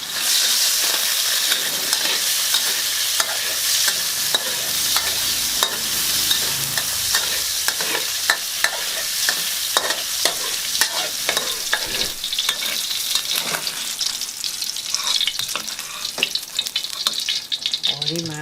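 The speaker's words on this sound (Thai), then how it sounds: "เครื่องพวกนี้เราจะต้อง รวนกับน้ำมันให้มันหอม" Aromatic seasonings stir-fried in hot oil for a steamed pomfret dish, giving a steady loud sizzle and hiss throughout with frequent scraping stirs, close up and without talk.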